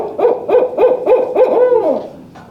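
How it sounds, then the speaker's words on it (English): A barn owl gives five or six even, wavering hoots in a steady rhythm, close and loud, the last one trailing off into quiet. "Can anyone tell me why he's called a barn owl?"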